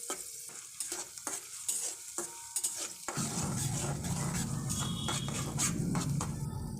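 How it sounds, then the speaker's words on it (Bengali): Onion paste, garlic paste and green chilies fry in oil in a wok for a pangas fish bhuna, with a few stirring clatters at first, then a loud, steady sizzle that fills the rest. "এখন একটি কড়াইতে তেল দিয়ে তার ভিতর পেঁয়াজ বাটা, রসুন বাটা, কাঁচামরিচ দিয়ে ভেজে নিব।"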